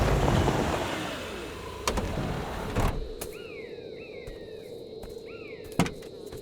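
A car coming to a stop in a forest, its engine rumble dying away, followed by a few sharp clicks and knocks as birds chirp in the quiet.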